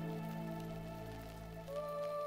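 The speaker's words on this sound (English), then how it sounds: "That's hail." Hail falls outside, a dense, steady patter heard indoors and fairly faint beneath sustained tonal music, with no voices.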